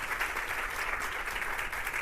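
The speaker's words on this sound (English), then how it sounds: "Can I just give the staff an applause?" An audience at a mayoral press event applauds the staff with a steady, even wash of many hands clapping at moderate volume, with no voices over it.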